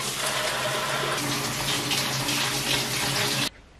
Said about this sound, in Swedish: Nu är det äntligen dags att hoppa in i duschen.